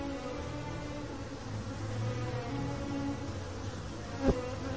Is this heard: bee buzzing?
yes